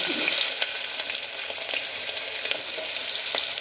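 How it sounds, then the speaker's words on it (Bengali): Cumin seeds fry in hot oil in a pressure cooker, a dense, even crackling sizzle that holds steady throughout with faint spattering pops. "কুকার বসিয়ে দিয়েছি আর তাতে তেল দিয়ে দিলাম এবার ফোড়নেতে আমরা দিয়ে দিচ্ছি জিরে"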